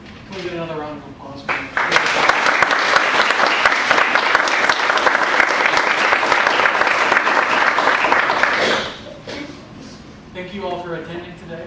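Sustained applause from an audience at a historical reenactment cemetery walk, loud and steady for about seven seconds before fading, with a person talking briefly before and after it.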